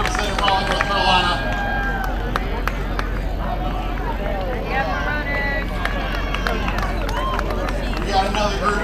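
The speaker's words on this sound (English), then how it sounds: "make sure you keep cheering them on" Cheering crowd at a half marathon finish line, a continuous babble of voices with scattered claps and calls as runners come through, with a voice speaking over it.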